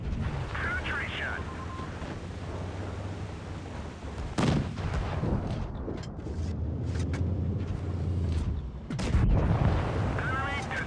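Heavy tank cannon shots in World of Tanks, from the E100 line, land as two big booming blasts about four seconds apart over a constant rumble of battle noise, with someone talking throughout.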